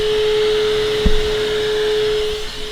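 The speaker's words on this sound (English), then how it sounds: "I got my shop vac." A shop vac runs continuously while mold is being cleaned up, its loud, steady motor whine and broad rushing airflow close by, with a brief bump partway through.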